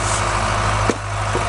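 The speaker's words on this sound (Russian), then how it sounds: "Трактор, да не наш" A tractor engine idles close by outdoors at a vineyard, a loud, steady low rumble with a constant hum and one brief thump partway through, no talking.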